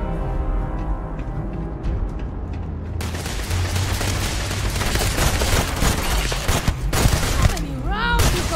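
Rapid gunfire from a gun bursts in after a calm tonal stretch, then rattles on as a dense, loud, continuous volley with a few sharper cracks near the end.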